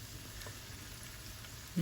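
Quiet, steady sizzling of meatballs frying in a pan, a soft crackling hiss that continues throughout, close by.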